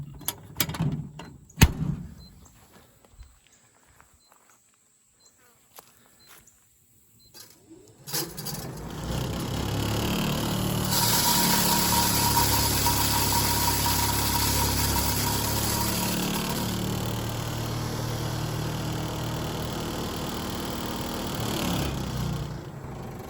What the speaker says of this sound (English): This machine throws those pellets further than I can by hand with a scoop